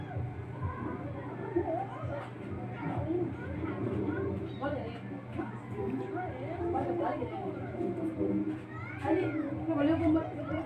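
Several meows and caterwauling calls rise and fall over busy background chatter, with people talking throughout.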